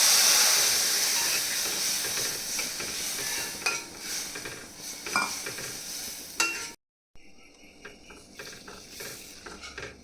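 Milk poured into vermicelli browned in ghee in a hot pan sets off a loud hissing sizzle that gradually settles into bubbling and stirring noises, cut by a brief dropout near the end.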